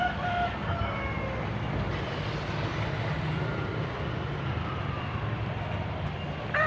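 A rooster crows on a farm beside a green cornfield, faint and distant over a steady broadband background rumble, with several short crowing calls early on.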